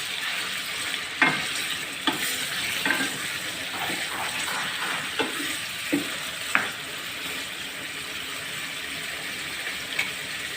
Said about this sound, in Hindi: चिकन को बहुत अच्छे से फ्राई करना है